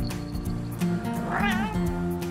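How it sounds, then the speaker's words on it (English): A cat gives a single clear meow at close range midway through, rising and falling, over a background of music-like tonal hum. "He meows when he wakes up."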